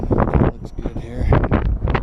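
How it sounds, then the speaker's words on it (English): Strong wind buffets the microphone outdoors beside a truck, coming as loud, rumbling gusts mixed with a man's speech. "The wind's really kicking."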